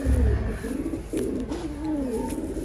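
Pigeons coo softly nearby in a loft, a low, rolling, repeated call running through the whole stretch over a steady background hum.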